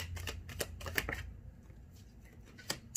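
Tarot cards are shuffled and drawn, with a quick run of crisp riffling flicks, then a quiet pause and a few separate card snaps near the end, close and soft.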